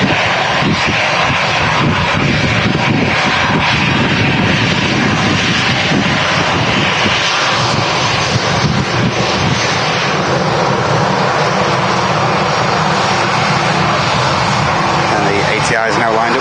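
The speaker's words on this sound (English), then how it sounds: "ATR is just about to enter 23 left." An ATR turboprop airliner taxis onto runway 23 left at Manchester Airport, its engines giving a steady, broad droning roar heard from a distance amid wind buffeting, with someone talking over it.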